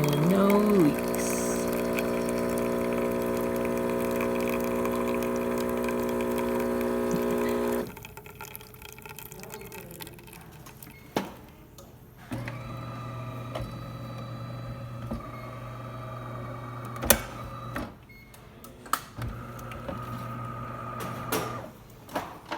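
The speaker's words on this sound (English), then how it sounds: "There it is, Delonghi Perfecta, no longer leaking from the spout." DeLonghi Perfecta coffee machine after a spout leak repair: a loud, steady droning pump buzz for about eight seconds, then quieter gurgling, drips and a low hum with a few sharp clicks.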